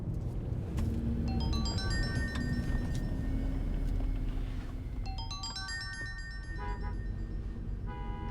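A mobile phone rings with an incoming call, a bright repeating melodic tone pattern sounding over a steady low rumble like a car interior.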